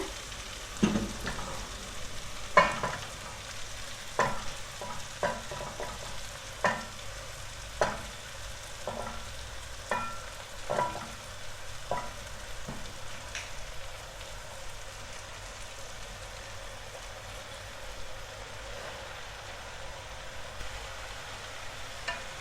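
Mushrooms fry in a pan for a Bulgarian pilaf, a low steady sizzle broken by a run of sharp scraping stir strokes, frequent at first and thinning out later, with no talking.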